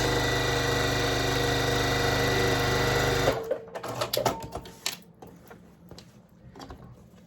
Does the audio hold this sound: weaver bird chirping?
no